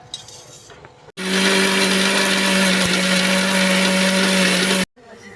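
A kitchen mixer grinder whirs at full speed grinding chutney with salt and sugar, starting abruptly after a brief quiet moment and running loud and steady for nearly four seconds before cutting off.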